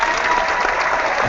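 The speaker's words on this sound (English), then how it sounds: "Applause for you." A brief stretch of audience applause for a contestant, a dense, even wash of clapping heard close and fairly loud.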